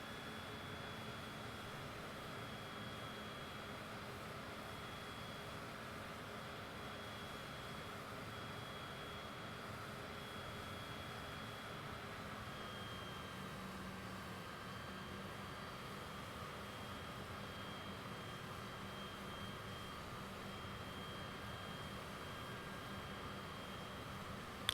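A jet airliner taxiing in a flight simulator game gives a steady, quiet engine whine and hum with faint tonal lines, unchanging throughout and without voices.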